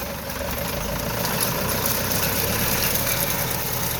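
A tractor engine runs steadily at about 1,500 rpm while driving a hay rake-tedder with a working width of about 2.5 metres in a field, a loud continuous mechanical drone with rattling vibration and no pauses.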